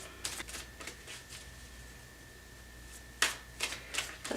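Tarot cards being shuffled by hand, giving quiet riffling bursts in two short clusters separated by a stretch of near silence, with a faint steady hum underneath.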